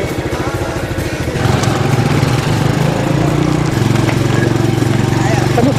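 Motorcycle engine labouring off-road up a steep mountain road, a loud, steady droning rumble that swells after the first second and holds, with people talking underneath.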